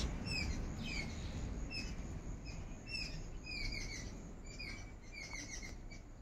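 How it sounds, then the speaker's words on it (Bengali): Small birds chirp and tweet in the morning near flowering potted garden plants, with repeated short high calls scattered throughout over a steady low outdoor rumble; no one speaks. "আমি যখন ভিডিও করি সকালের দিকে, পাখিদের কিচিরমিচির শব্দ আপনারা নিশ্চয়ই শুনতে পান।"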